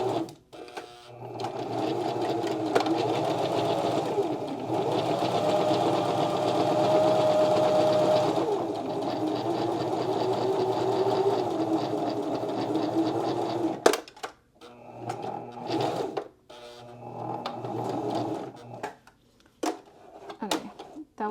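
A sewing machine stitches a ripstop top tube bike bag in a steady, close run of about fourteen seconds, then stops and gives a few short, broken stitching bursts.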